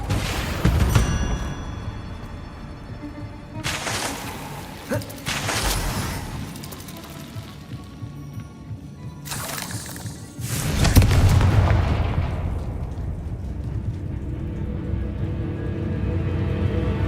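Spell-blast explosions tear through eggs in a fantasy video game, several booming bursts with debris crackle at intervals, ending in a heavier rumbling blast, loud and near with no talk.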